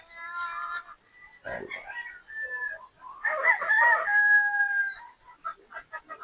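Gamefowl pullets of a three-quarter sweater, one-quarter Boston cross cluck and call on a game farm, with a rooster crowing nearby in several bursts; no talk, just a busy flock close to the microphone.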